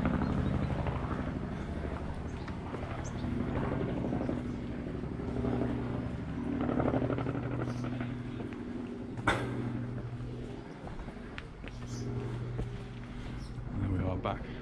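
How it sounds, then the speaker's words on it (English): A helicopter drones overhead with a steady low rumble over the gardens of Raixa, Mallorca, mixed with background noise and occasional voices. "A very modern helicopter up above."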